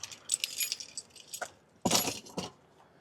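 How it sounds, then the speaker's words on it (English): A ring of keys jangles and clinks in short bursts, close by, as a key goes into a 2024 Chevy Colorado, with one sharper rattle near the middle. "I'll have to put the key in the ignition, or really just the key in the vehicle"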